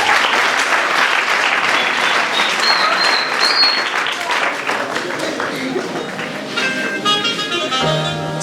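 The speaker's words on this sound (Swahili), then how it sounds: "Sidhani kama haya makofi yanatosha." Sustained applause from a school audience after a student's speech, dense clapping filling the whole stretch at steady loudness, with a voice beginning to speak over it near the end.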